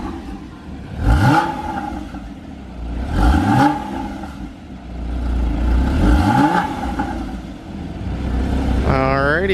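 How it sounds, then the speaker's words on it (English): A Porsche on its stock exhaust is revved three times in quick succession, each blip rising sharply and falling back to a throaty idle, close and loud. "Let's get a couple revs."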